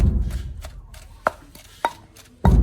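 Pestle strikes in a mortar while ingredients for a Thai sour curry are pounded, sharp thuds spaced irregularly, heard close over a low background rumble.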